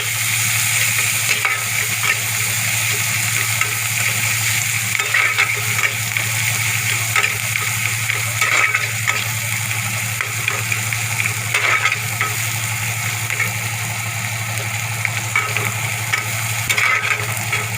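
Vegetables with green chillies frying in a pan and being stirred, a constant loud sizzle with scattered crackles and stirring scrapes, steady throughout with no voices.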